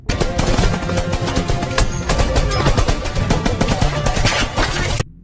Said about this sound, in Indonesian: Di tengah baku tembak, Maya berhasil melepaskan Raizo.